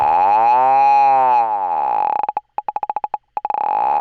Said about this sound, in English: Lovely, we're getting some really nice creaks there.